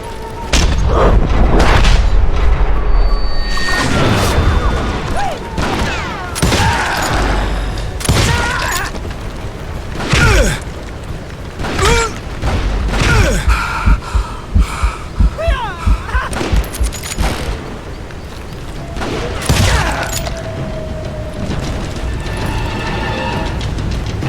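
Gunfire in the Western shooter Call of Juarez: Gunslinger, with repeated loud booming shots and rattling mechanical clicks that come in bursts and sharp single cracks and run through the whole stretch, with only brief pauses between volleys.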